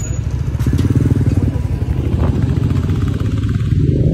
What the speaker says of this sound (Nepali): केटाहरूको बाइक यस्तो मरिरहेछ